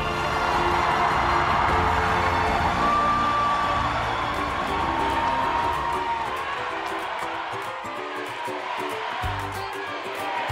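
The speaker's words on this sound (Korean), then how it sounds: "뜨거운 박수로 맞이해 주시기 바랍니다" Crowd at an election rally for presidential candidate Lee Jae-myung cheering and applauding, a loud sustained roar of voices and clapping with shouts and whoops rising over it, gradually thinning toward the end.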